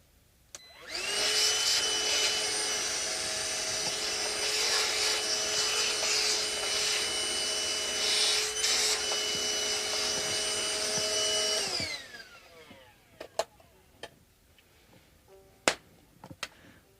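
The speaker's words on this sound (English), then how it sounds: "This is a nice and cute vacuum cleaner." A small vacuum cleaner starts up with a whine and runs steadily at a loud, even pitch for about eleven seconds, then winds down and stops, followed by a few sharp knocks and clicks.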